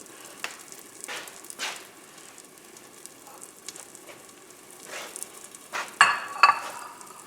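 A sardine and kalamata olive omelet cooking over a very low flame, giving a soft, quiet sizzle with scattered light taps and scrapes of a utensil, a couple of them louder near the end.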